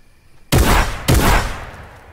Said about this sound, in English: And that to a legendary combat shotgun.